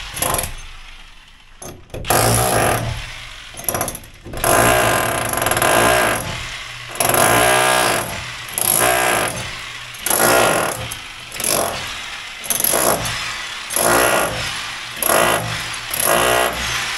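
A power drill bores into a column in a new house, loud grinding bursts repeating in a steady rhythm of pulses with short pauses between them.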